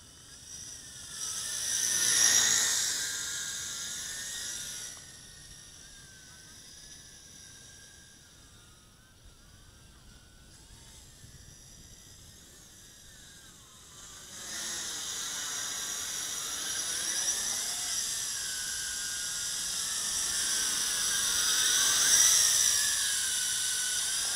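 A quadcopter drone in fast flight, its motors and propellers giving a high, whining buzz that rises and falls in pitch as it speeds past, fairly faint overall.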